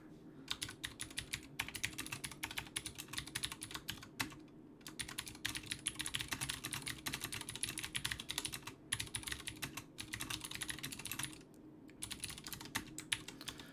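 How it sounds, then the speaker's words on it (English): Steady, fast typing on a computer keyboard, loud and close, with dense key clicks and a few brief pauses, no voices. "Apologies for the loud keyboard typey sounds."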